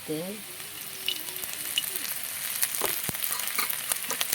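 Bay leaf and nigella seeds hit hot oil with a bright, continuous sizzle and scattered pops and crackles. A voice is heard briefly at the start.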